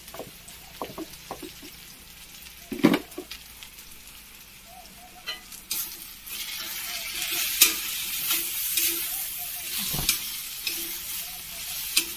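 Masala sizzles and fries in a pan with moth bean dal and onion, a steady crackling hiss that grows louder midway, with occasional stirring and utensil knocks close by.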